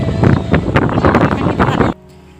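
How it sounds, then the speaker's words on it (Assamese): Wind gusting outdoors at Kalamati, buffeting the microphone with loud, rumbling bursts for about two seconds before dropping abruptly to a quieter background. "কি ধুনীয়া বতাহ মাৰিছে"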